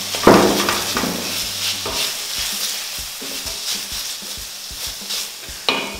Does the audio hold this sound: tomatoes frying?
yes